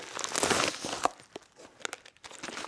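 A large bag of imperial UNF nuts, bolts and washers is cut and torn open in a workshop, with loud plastic crinkling and tearing up close followed by a few sharper rustles and crunches.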